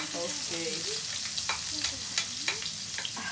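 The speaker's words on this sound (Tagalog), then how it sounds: "Next is the same pan we will add in our garlic and our onions." Garlic and onions fry in a pan with a steady broadband sizzle, broken by the scrape and clatter of stirring. A voice speaks briefly over the cooking.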